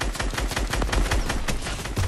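Rapid assault rifle fire in Fortnite during a duo match in Weeping Woods, sustained bursts of close, loud shots rattling steadily with no voices.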